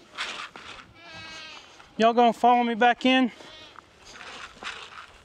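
Goats on a farm bleat in a loud burst of several overlapping calls midway, set between stretches of a person talking and calling to the animals.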